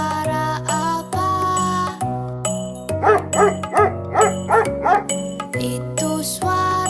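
A dog barks about five times in a quick series, set against a bright, steady musical backing with chiming tones.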